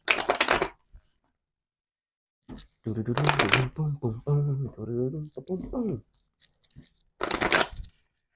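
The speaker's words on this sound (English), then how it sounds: "I'm just going to give this boy a handy-dandy shuffle." Tarot cards being shuffled by hand: three quick, crisp riffling bursts, at the start, midway and near the end, close and loud, with a person talking in between.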